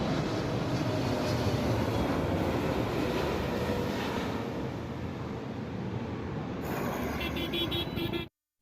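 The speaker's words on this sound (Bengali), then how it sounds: "আরও একটি বড় বিমান চলে আসছে এটিও বিমান বাংলাদেশের একটি ফ্লাইট" A large Biman Bangladesh passenger airliner approaches the runway at Hazrat Shahjalal airport, a loud, steady broadband jet roar that holds for about eight seconds, with a higher whine emerging near the end before it cuts off.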